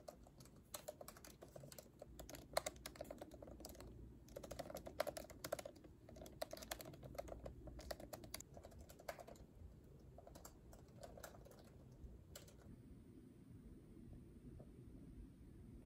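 Computer keyboard typing while writing a novel draft at home: steady soft clatter of keystrokes in irregular quick runs with brief pauses, faint and close, no voices, easing off near the end.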